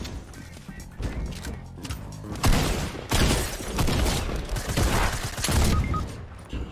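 Shotgun blasts and heavy gunfire in a Fortnite World Cup match, loud repeated booms and crashes layered over dense game noise with no pause.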